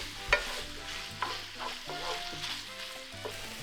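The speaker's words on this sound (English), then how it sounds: "when the fat begins to render like this, that's when you want to start to throw in onions" Onions and other ingredients, including tomatillos, fry in rendered fat in a pan for a spicy breakfast burrito, with a quiet sizzle broken by a few sharp clanks and scraping stirs.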